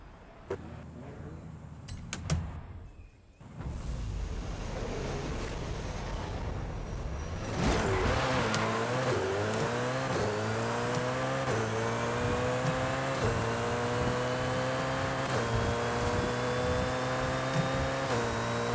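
A Koenigsegg Jesko in Forza Horizon 5, tuned for drag racing with a shifter, revs hard and accelerates after a brief quieter stretch, its engine note climbing steadily and loudly through the gears with a rising, sustained roar.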